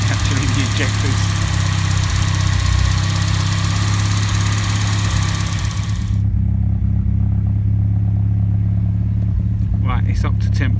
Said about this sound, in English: All that noise you can hear is actually the injectors.